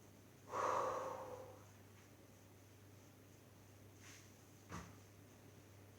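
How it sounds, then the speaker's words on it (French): A person breathes out during a Pilates exercise with one strong, close exhale near the start, then the room goes quiet apart from a couple of faint soft sounds. "Allez, soufflez."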